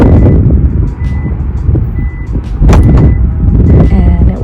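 A 2020 Hyundai Elantra Luxury's hands-free trunk gives short electronic beeps in a repeating pattern, fairly close, over a steady low rumble of engine and road noise.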